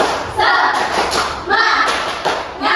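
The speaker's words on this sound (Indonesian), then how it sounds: "kita tepuk semangat aja ya" Classroom of children doing a rhythmic clapping chant, with bursts of unison hand claps and loud chanted voices, repeating in three surges.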